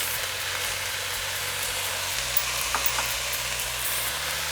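Soya bean pulao with biryani masala and salt being stirred in a pan, giving a steady close sizzle and scraping hiss over a low, constant hum.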